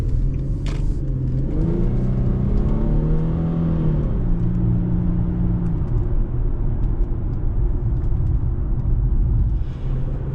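Tuned Infiniti G37 engine accelerating on a road drive, a steady loud rumble with rising and falling revs over the first few seconds, then a sustained low drone with no talking.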